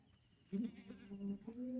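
A single Kathiawari goat lets out a long, wavering bleat that starts abruptly and carries on for over a second against quiet surroundings.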